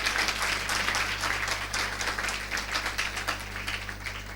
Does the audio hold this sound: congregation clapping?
yes